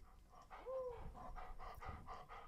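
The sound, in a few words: dog panting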